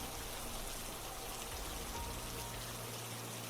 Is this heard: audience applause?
no